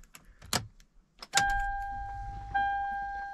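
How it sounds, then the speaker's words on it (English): Ignition key turned to the on position in a Toyota/Lexus car: keys jangle and clink, then a steady electronic hum and tones rise as the ignition comes on, stepping up once more a second later. "So turn the key to the on position right here."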